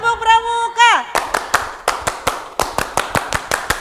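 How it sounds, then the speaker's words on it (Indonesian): A Pramuka scout group performs a rhythmic clap routine, sharp close claps in a quick patterned beat following a brief chanted voice at the start. "Ya, tepuk Pramuka."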